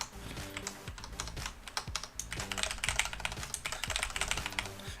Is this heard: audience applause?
no